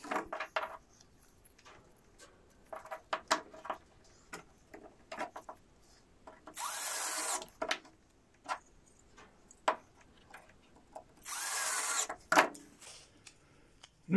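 Cordless power drill driving screws into a door hinge, two sustained whirring bursts separated by scattered clicks, knocks and handling noises, close by with no talk.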